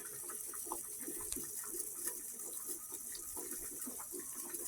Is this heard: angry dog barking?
no